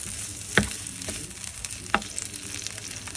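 Shrimp cooking in garlic butter in a pan, a quiet steady sizzle and crackle with a couple of sharp utensil clicks against the pan, no voices.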